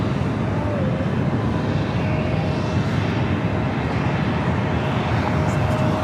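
UPS jet taking off from the south side at Los Angeles International Airport, a steady broad roar of engine noise holding at constant loudness throughout, somewhat distant with a faint tonal whine.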